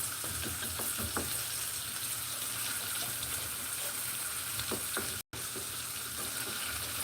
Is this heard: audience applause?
no